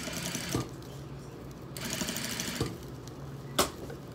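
A sewing machine stitches three layers of sequins onto a shirt sleeve, its steady close whir broken by a few brief louder knocks as the fabric shifts.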